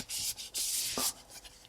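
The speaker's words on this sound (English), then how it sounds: "when you're doing wet sanding, make sure to change your papers" Wet sandpaper rubs over a resin 3D-printed visor in short back-and-forth strokes, making a close, gritty hiss in a few bursts with brief pauses between them.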